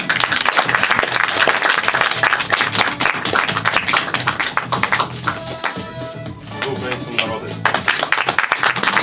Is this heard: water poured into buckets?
no